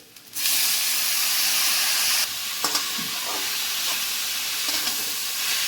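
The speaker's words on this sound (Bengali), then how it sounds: "নারকেলটা বেশি ভাজা ভাজা করবো না বন্ধুরা" Grated coconut frying in a pan, a loud steady hiss and sizzle that starts abruptly and continues, with faint stirring scrapes and clinks, no talk.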